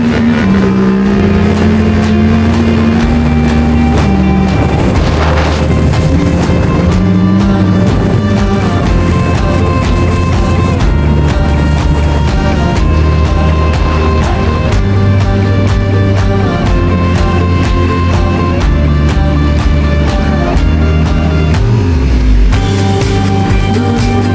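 A Yamaha Tenere 700 adventure motorcycle ridden on a national park road, its engine droning loud and steady with rising revs through gear changes, carrying a heavy load.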